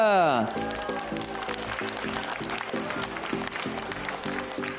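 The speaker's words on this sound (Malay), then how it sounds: "Tuan-tuan dan puan, tepukan untuk pemenang tempat ketiga kita." Audience applause for the third-place winner at the Junior Innovathon 2025 final, a steady crowd of clapping with a rhythmic musical backing throughout, following a brief opening tone sweep.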